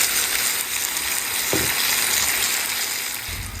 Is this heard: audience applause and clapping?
no